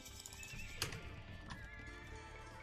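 Knight cavalry in a strategy video game, a loud close horse whinny over a steady clatter of hooves and background game noise.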